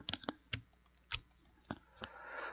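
Computer keyboard typing during SOLIDWORKS modeling work, done one-handed: sparse, irregular key clicks and taps, close and fairly quiet, with a short burst of quicker keystrokes near the end.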